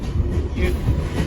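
A train rolls slowly along the Aspen Crossing Railway track at about ten miles an hour, giving a steady low rumble with faint wheel clatter, heard briefly with no distinct voices.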